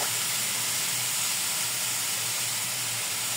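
Pork frying in oil gives a steady, dense sizzling hiss that holds at an even level throughout, close up and without talk.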